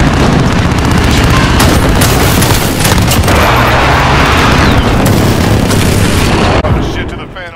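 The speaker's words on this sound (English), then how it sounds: "precision airstrike on the" Precision airstrike explosions pound the battlefield in Modern Warfare, a loud, dense barrage of booming blasts and crackling debris that roars almost continuously before tapering off at the end.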